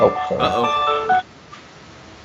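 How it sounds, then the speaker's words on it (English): A phone alarm goes off as an electronic tone under close talking, lasting about a second before it is cut off and the room falls quiet. "That was my alarm that I had to speak to you."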